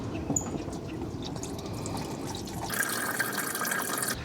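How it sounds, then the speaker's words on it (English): Coolant draining from a Lexus GX460 radiator gives a steady, faint trickle and splash of liquid into a catch pan. A brighter, hissing stream joins in near the end. "Also drain the radiator again."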